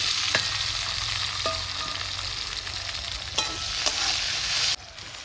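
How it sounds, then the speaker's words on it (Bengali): Onions hit hot oil in a pan with a loud, continuous sizzle and crackle, close and steady throughout with a few sharp pops, and no speech. "তেলটা গরম হয়ে গেছে আমি দিয়ে দেবো পেঁয়াজ"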